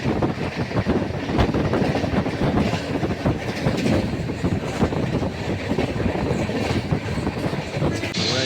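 A passenger train pulling into Krishnaganj station rumbles loudly and continuously close by, its wheels clattering in a steady rhythm with wind buffeting the microphone throughout.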